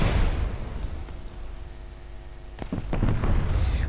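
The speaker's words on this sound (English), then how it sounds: "the gunfire sounds sound a lot better cruiser to cruiser." Naval cruiser guns firing in the War Thunder video game, heard as a series of deep booming blasts and rumbling explosions, moderately loud, with a cluster of sharper reports near the end and no talking.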